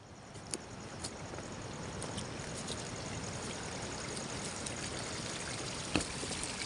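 Steady rush of water flowing in a mountain stream in Uttarakhand, India, a continuous close burble with a few small splashes, no talking.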